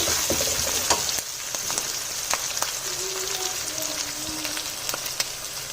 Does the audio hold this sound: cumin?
yes